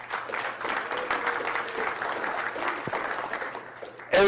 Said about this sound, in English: McCain needs a round of applause